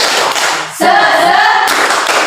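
A primary school class in Indonesia claps together in a quick burst, a few loud slaps of hands in rhythm, close and lively.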